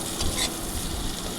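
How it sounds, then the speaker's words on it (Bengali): Chopped onion and slit green chillies sizzle steadily in hot oil, with soft stirring scrapes of a spatula in the pan, close and continuous for a brief moment. "এবার পেঁয়াজ আর কাঁচা লঙ্কাটাকে ভালো করে নেড়ে চেড়ে নিয়ে আমি লাল লাল করে ভেজে নেব"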